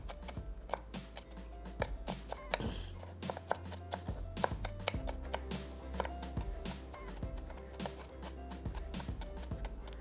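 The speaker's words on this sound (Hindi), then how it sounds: "एक अदद शिमला मिर्च दरमियानी, एक अदद प्याज दरमियानी स्लाइस करके रफली सा चॉप कर लेंगे।" Bell pepper and onion slices being roughly chopped on a board, a run of close, sharp knife taps at an uneven rhythm over a steady low hum of kitchen background.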